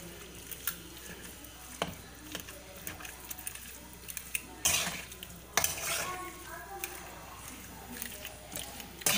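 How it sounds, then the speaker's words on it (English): Moong dal fries in ghee in a pan as a utensil stirs and scrapes it, giving a faint sizzle under irregular metallic clinks and a few louder knocks against the pan. "Now you have to fry the dal till pink."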